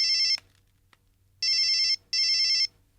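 A telephone rings in a Tamil TV serial scene: a short electronic ring, a pause, then two longer bursts of trilling ringtone, clear and close with no talk.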